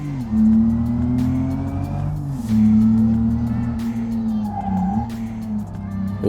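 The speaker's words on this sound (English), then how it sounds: "Just listen to that engine." Ibishu Claira tuner with a 2.6 litre engine and side exit exhaust revving hard in BeamNG.drive, a steady loud drone rising and falling in pitch across several gear changes, with faint tyre squeal.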